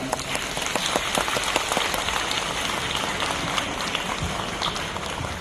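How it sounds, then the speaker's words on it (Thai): An audience applauds the composer of a Thai song at a concert, a dense and sustained wash of clapping from a large crowd that stays loud and even throughout. "ขอเสียงปรบมือ"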